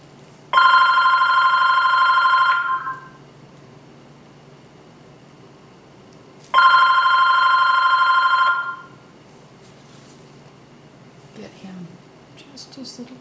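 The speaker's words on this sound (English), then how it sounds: "That phone is just running like crazy." A telephone rings in two long electronic bursts of about two seconds each, separated by several seconds of quiet room hum, loud and close, with faint sounds after.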